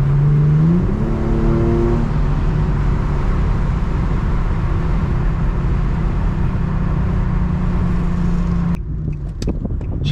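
Infiniti G35 engine revs hard through rising gear-like pulls, loud and close from inside the car during traffic driving, then cuts off abruptly near the end.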